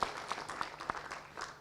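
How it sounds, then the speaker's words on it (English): Applause at a gala for an honoree, a short burst of scattered hand clapping from a moderate crowd, fairly faint and somewhat distant, with no voices. "let's give another round of applause to Honorable"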